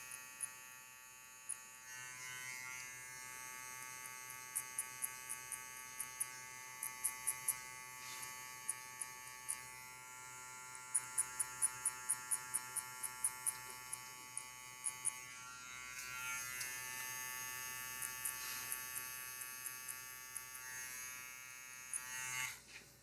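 Electric hair clippers buzzing steadily while cutting a skin fade, a continuous close mechanical hum with repeated short rhythmic ticks as the blade works through hair, and no speech.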